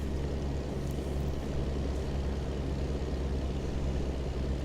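Deep, steady diesel rumble of a heavy semi truck in American Truck Simulator, droning loudly and continuously as the driver works down through the gears, with no talk over it.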